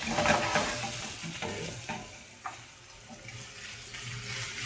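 Jamaican jerk shrimp sear in a hot pan with a soft, fairly quiet sizzle and crackle, broken by a few light stirring and handling knocks, and no talking.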